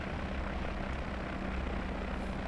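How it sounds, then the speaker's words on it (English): A light aircraft engine drones steadily and loudly in the cockpit during a landing approach as flaps lower and power is adjusted, a continuous propeller hum with no pauses. "The difference in the engine is the flaps went down, and it's re-throttling for keep the airspeed up."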